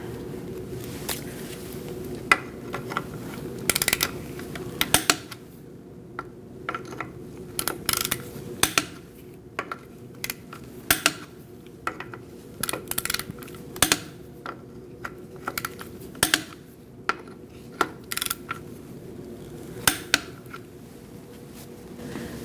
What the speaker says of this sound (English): We're going to torque our wheel to 103 foot-pounds.